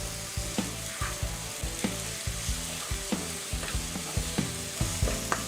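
Ginger, garlic, green chilli and onion sizzle in a pan over a low-medium flame, a steady close frying hiss broken by regular stirring scrapes and knocks roughly every half second.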